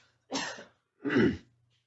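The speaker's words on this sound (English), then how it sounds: "I got to cough." A person gives two short, rough bursts, a cough followed by a heavier throat clearing, close up in a quiet room.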